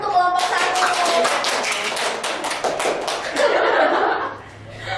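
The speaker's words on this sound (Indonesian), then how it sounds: "Tepuk tangan untuk kelompok" A classroom breaks into applause for a student group at a microteaching competition, a dense, loud burst of many hands clapping for several seconds, mixed with some chuckles and voices, then tapering off.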